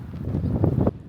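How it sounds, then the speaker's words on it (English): Strong wind gusts buffet the microphone on a stormy coast, a loud rumbling roar that swells and then cuts off abruptly. "trees, and signs, all blowing in the wind today"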